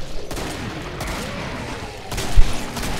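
Rapid automatic gunfire crackles in a shooter video game, bursts of shots in quick succession with a sharper crack near the end.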